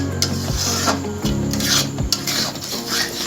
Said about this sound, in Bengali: এরপর অনবরত আমি এইভাবেই নাড়তে থাকবো এই দেখুন এইরকমভাবে নাড়ছি